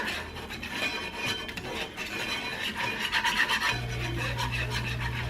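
Sausage gravy being whisked in an 8x8 iron skillet, a close, rhythmic rasping scrape of the whisk against the metal pan, steady and continuous with a low hum underneath.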